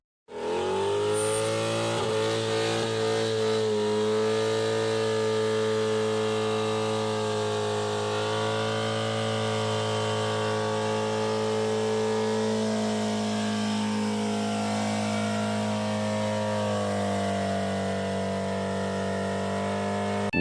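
Nissan 240SX fitted with a KA engine doing burnouts, a loud sustained engine roar held at high revs with a steady droning tone and faint tire squeal, continuous for about twenty seconds with no talking.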